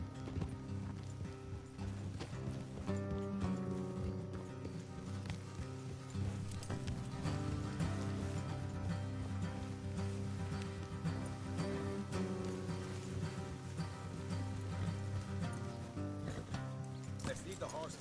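Horses gallop in the Red Dead Redemption 2 video game, their hooves making a steady, rapid clip-clop that runs throughout under game sounds and voices.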